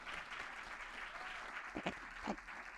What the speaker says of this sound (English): Big round of applause for Queen, Krishna, June, and Lauren.